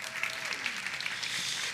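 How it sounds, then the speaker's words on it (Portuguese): An audience gives a steady round of applause for a special guest, Poliana, at a church coffee gathering; soft, even clapping throughout, fairly faint. "Um aplauso aqui para nossa convidada especial."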